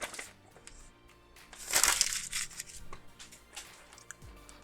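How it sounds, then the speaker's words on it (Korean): Cardboard box of an Academy 1:48 scale F-86D Sabre plastic model kit being opened, with a loud scraping, crinkling rustle of packaging that peaks and then fades into quieter handling noises. "박스를 열어보면"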